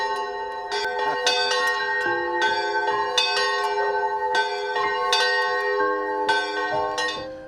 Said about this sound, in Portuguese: O repicar dos sinos anuncia